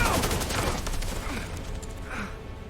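A volley of gunfire in an animated Digimon episode, set during a prison break, starts as a dense burst of rapid shots and then tails off into scattered reports over a noisy, echoing background.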